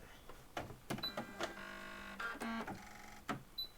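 A home sewing machine runs in short bursts while back-stitching to lock the seams on a cross body bag, with a rattling, whirring motor between brief pauses, close by.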